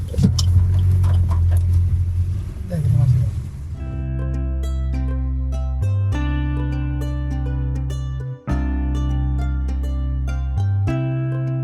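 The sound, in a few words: car driving on a road before parking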